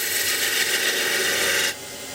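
A skew chisel shearing wood on a lathe while shaping a multi-axis candlestick holder gives a steady, close scraping hiss that runs for under two seconds and then drops away.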